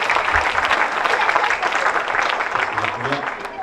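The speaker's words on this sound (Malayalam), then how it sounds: "നല്ലൊരു കൈയടിച്ച് ഹാപ്പി മദേഴ്സ് ഡേ" A crowd applauds at a Mother's Day celebration during a church foundation-stone event in Tampa, giving a steady, dense clapping that fills the whole stretch at close range, with a voice faintly underneath.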